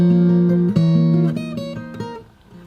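Fingerstyle acoustic guitar playing one bar of The Mandalorian theme, clear picked melody notes over a sustained bass, with a steady picking pattern that fades slightly toward the end; no voices.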